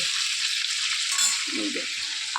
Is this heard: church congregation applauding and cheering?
no